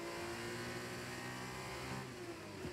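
Formula 2 race car in an F1 video game lapping the track, its mid-pitched engine droning steadily and loud throughout, with a sustained tone that shifts slightly as revs change; no voices.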